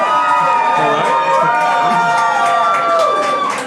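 A bar crowd cheering during a show-of-cheers vote: a loud, sustained mass of shouting and whooping voices that continues at full volume before easing slightly at the end.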